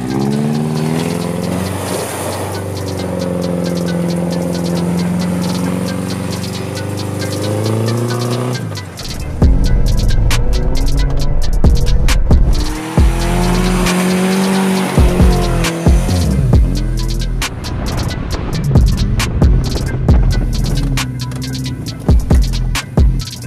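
A car bought from America with a damaged body drifts on a track in Kuršėnai, its engine throbbing loudly while the tires squeal and skid in long bursts, close and continuous.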